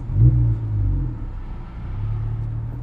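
A Porsche 997 with a swapped-in Honda K20 engine idles nearby, a steady low rumble with slight surges in level, heard alone.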